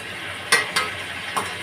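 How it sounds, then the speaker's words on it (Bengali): Potatoes and pointed gourd frying in oil in a pan, a soft steady sizzle broken by three quick scraping stirs, close and without talk. "সবগুলো ভালো করে ভেজে নেবো আমি"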